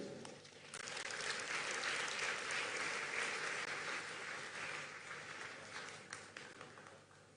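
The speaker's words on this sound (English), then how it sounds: "Another round of applause for President Bayo." Audience applause at the Africa Climate Summit 2023 following a head of state's national statement: a dense, sustained round of clapping that swells quickly, holds steady and then slowly tapers off, with no talking over it.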